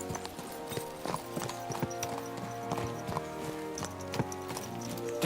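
Several horses clip-clop in a steady trot, their hooves beating a close, continuous rhythm that stays fairly loud throughout, with no voices over them.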